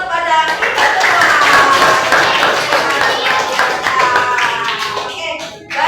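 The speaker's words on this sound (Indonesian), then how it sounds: "Beri aplaus pada kita semua." A classroom of students claps together in a burst of applause lasting several seconds, close and fairly loud, with voices mixed in before it trails off near the end.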